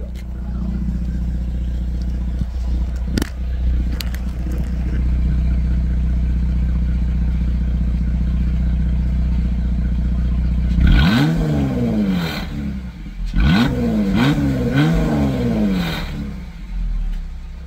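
A car fitted with a Borla ATAK cat-back exhaust idles with a deep rumble, then is revved several times in sharp, loud rising and falling blasts close by.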